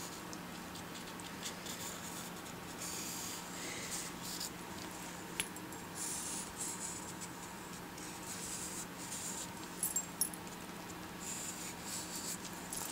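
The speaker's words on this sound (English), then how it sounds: "I came back in with my charcoal pencil and I traced around it" A charcoal pencil traces around a shape on MDF board, producing soft, irregular scratchy strokes with small taps, quiet and close, over a faint background hum, with no talking.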